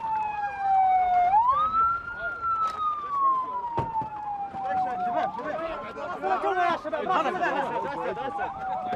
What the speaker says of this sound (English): an ambulance screeches in to pick him up